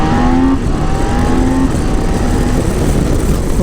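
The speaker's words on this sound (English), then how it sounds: "let's try this quick shifter under full throttle" A 2022 BMW K 1600 GT six-cylinder motorcycle accelerates hard at full throttle on an open country road, its loud engine droning with rising pitch and quick-shifter gear changes breaking the tone.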